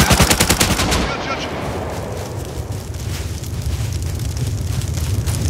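Rapid bursts of automatic gunfire from the survival video game Rust, loud and dense at first, then a sustained crackling rumble of shots and explosions filling the rest.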